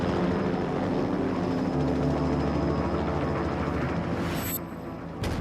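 Indian LCH light combat attack helicopter flying, a loud continuous rotor and engine roar that holds steady, then eases slightly near the end as it moves off.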